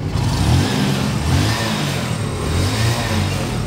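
A Honda CT125 motorcycle engine runs loud and close, repeatedly revving in rising and falling pulses over a rough, steady rumble, with no talking.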